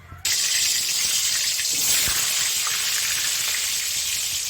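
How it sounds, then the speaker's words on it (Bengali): Potatoes fry in hot oil for a chicken curry, a steady, loud, close sizzle and crackle that starts abruptly and holds evenly throughout with no talking. "এবার তেল গরম করতে দিয়েছি, ওতে আমি আলুগুলো ভেজে নেব।"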